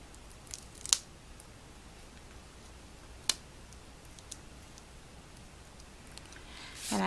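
Small metal snips clip through paper on a handmade card, two brief crisp snips with tiny ticks between them against a quiet room, then a soft rustle as tape backing is peeled away at the end.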